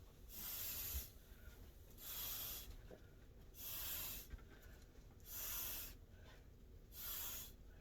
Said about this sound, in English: I think I'm gonna do a little spritz there.